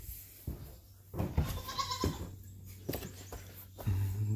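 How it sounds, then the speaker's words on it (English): Goats bleat a few times over a barn's ambient noise, with a low steady hum underneath and light rustling between calls. "Hello, goaty goats."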